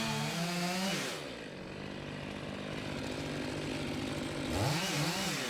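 A chainsaw cuts a notch into a giant birch trunk with a rotten core, the engine revving high, dropping into a steady loaded drone as the bar bites wood, then revving up again near the end.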